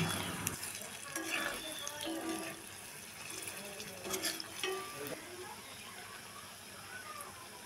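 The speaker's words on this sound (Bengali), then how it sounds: "উল্টে পাল্টে সবগুলো লালচে করে ভেজে নেব।" Palm fritters sizzle steadily as they fry in hot oil, with occasional scraping and turning clatter from stirring, close up and continuous throughout.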